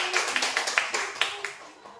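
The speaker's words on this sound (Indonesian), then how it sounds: "Berikan tepuk tangan untuk Suel." A small classroom group claps for a student in a brief, uneven run of about a dozen distinct claps, close and moderately loud, tapering off after two seconds.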